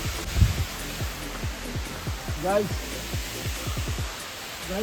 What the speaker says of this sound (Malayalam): അങ്ങനെ നമ്മൾ വെള്ളച്ചാട്ടത്തിൽ എത്തിയിരിക്കുകയാണ്.